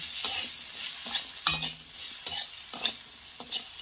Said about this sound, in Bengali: দিয়ে এটাকে ভালো মতো আবারও নাড়িয়ে নিচ্ছি।